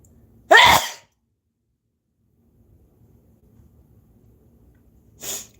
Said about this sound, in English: I have to sneeze for some reason.